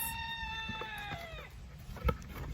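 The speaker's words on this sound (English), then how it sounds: "Mr. Rooster, it's story time. You have to be quiet out there." A rooster crows once, a long drawn-out call that fades at the end, followed by a brief thump and faint background noise.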